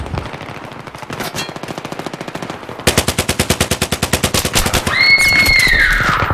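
Automatic gunfire in Battlefield 3, loud rapid bursts that speed into a dense continuous stream, followed by a rising whine near the end.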